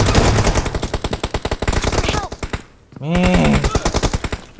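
Rapid automatic gunfire in a video game battle, loud close bursts in a fast rhythm that stop briefly and then resume, while a player exclaims over it.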